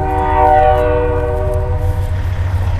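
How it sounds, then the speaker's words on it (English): A train passes close by, its loud horn sounding a sustained harmonic blast that fades while low rumble continues underneath. "there's a train going by"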